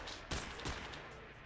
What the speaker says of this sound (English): I'm just using my pistol at the moment